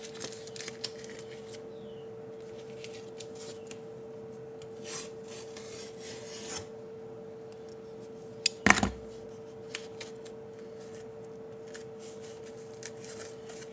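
Excess tape being trimmed off a wooden jig for an xTool S1 laser, a soft intermittent scraping and rasping of a blade with one sharp snap partway through and a faint steady hum underneath.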